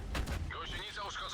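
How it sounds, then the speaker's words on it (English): Artillery fire in a tank battle game, a short, muffled boom with rumbling low end, heard under a voice speaking. "Artillery."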